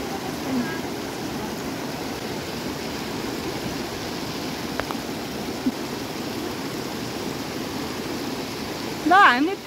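A mountain stream on a monsoon trek near Badimalika flows with a continuous broadband rush of water, steady and fairly close, while a voice is briefly heard near the end.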